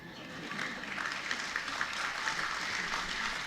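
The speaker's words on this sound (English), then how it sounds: "Please give him a big round of applause." Steady, dense audience applause fills a conference inauguration hall, a continuous even patter of many hands clapping at fairly constant loudness with no pauses.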